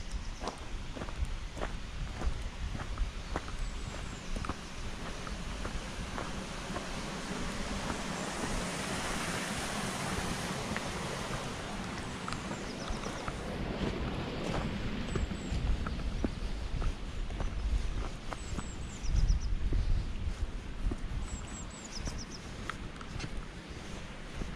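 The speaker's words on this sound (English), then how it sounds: "This isn't the River Irwell, but it's a nice little brook we can hear." A small brook flows along a country park footpath, giving a soft, continuous rushing wash at moderate distance, with a few faint bird calls and light footsteps.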